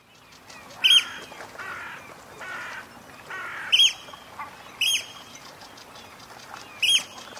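An oystercatcher on the Orkney Islands gives four sharp, shrill piping calls, spaced irregularly over several seconds. The calls are fairly close and clear against a quiet outdoor background.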